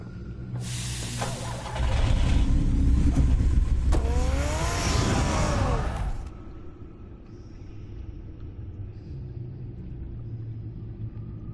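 Batman's car in Telltale's Batman game, a deep rumbling engine that swells loud, revs with a rising whine, then cuts off abruptly, leaving a faint low hum.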